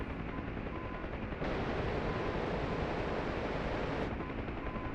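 A 7.62 mm machine gun on a UH-1 helicopter in DCS fires a sustained, dense roar that intensifies for a few seconds over the constant thrum of the aircraft.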